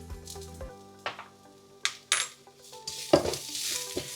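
Turmeric and cumin sizzle in a hot pan while being stirred, with scraping, a few metallic clinks and bursts of frying hiss.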